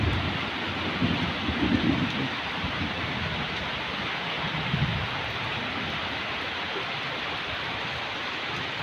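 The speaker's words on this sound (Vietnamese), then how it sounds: "sấm chớp làm mình cũng giật mình mấy phen đó nha quý vị" Heavy first rain of the season over rural countryside in the Mekong Delta, a steady dense hiss with low rumbles of thunder rolling early on, no voices.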